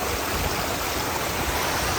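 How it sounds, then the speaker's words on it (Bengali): Fast floodwater in Vrindavan pours down a drain toward the Yamuna, making a loud, steady roar that holds unbroken throughout and is close to the listener. "ডাইরেক্ট যমুনায় যাচ্ছে এই জল। দেখুন দ্বিতীয়বার মানে বন্যা এখানে এসে গেছে। জলের স্পিড দেখুন"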